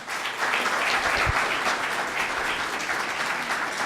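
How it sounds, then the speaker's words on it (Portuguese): Audience applause at a Brazilian municipal legal event, dense and steady clapping from a sizeable crowd filling the room throughout, with no voices over it. "uma salva de palmas para esses dois aqui"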